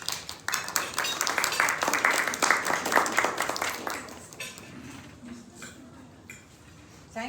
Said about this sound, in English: I never get applause for anything, so that's quite nice.